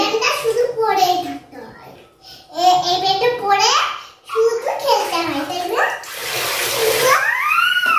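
Young children being bathed at home after school, with water splashing and a tap running as the kids babble, laugh and chatter loudly throughout.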